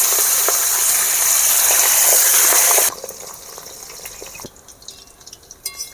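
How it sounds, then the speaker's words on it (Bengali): Pabda fish frying in hot white vegetable oil: a loud, hissing sizzle for about three seconds, then it drops to a quieter crackle with scattered pops that fades toward the end. "তেল গরম হয়েছে, এবারে আমি মাছগুলো দিয়ে দেবো।"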